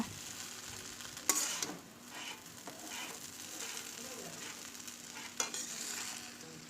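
Chow mein being stirred in a hot pan, a steady sizzle with scraping stir strokes and two sharper clanks of utensil against metal, close and fairly quiet, no talk.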